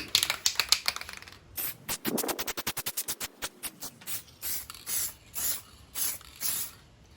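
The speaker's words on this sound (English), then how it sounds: "to go a little bit heavier on the paint as you're spraying" Aerosol spray of clear coat paint going onto a car panel during a bubbling clear coat repair: a rapid series of short, close hissing bursts, then longer separate sprays at a steady rhythm.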